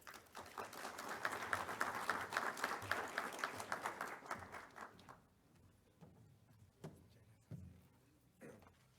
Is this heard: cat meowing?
no